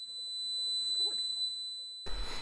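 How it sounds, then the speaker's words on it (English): An xTool D1 Pro laser cutter's fire-detection alarm, sounded while cutting leather, gives a steady, piercing high electronic tone that continues throughout and ends in a short burst of noise. "If you hear this alarm sound, then you know that your laser has detected a fire."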